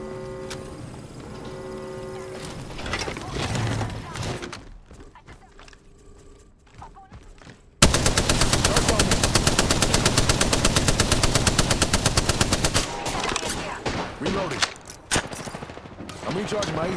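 Gunfire aimed at the player in the video game Apex Legends Arenas, a loud rapid machine-gun burst after a quieter stretch, continuing for several seconds with scattered shots, game sounds and voices around it.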